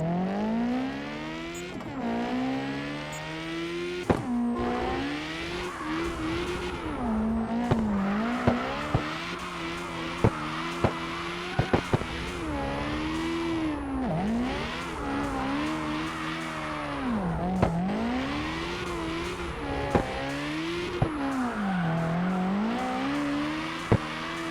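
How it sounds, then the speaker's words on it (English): A Nissan S15 Silvia drifting in CarX Drift Racing, its engine note swooping up and down as it revs through slides, with short tire chirps and clicks scattered throughout at a steady, moderate level. "let me show you that new car, the S15 Silvia, that was released lately"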